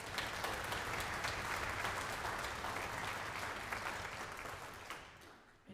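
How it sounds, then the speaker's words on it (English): A concert audience applauds a euphonium soloist at a fall wind band concert, sustained dense clapping from a large room that gradually thins and fades near the end. "we got to applaud enough for our euphonium soloist on benediction"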